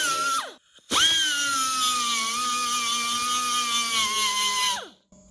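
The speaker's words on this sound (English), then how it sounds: "take your favorite sanding device. I am a big fan of the Whizzer Wheel" A Whizzer Wheel sanding tool grinds steady and loud on the body of a 1996 Dodge 2500, hunting for spot welds. It gives a brief burst first, then one long sustained whine that winds down at the end, with no talking.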